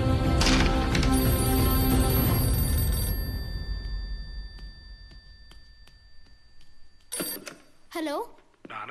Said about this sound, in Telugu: నాన్న, నీకే ఫోన్.